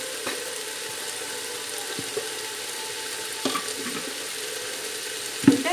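A fenugreek-greens and green gram gravy fries softly in a pan, giving a faint, steady sizzle broken by a few light clinks and stirs of a utensil.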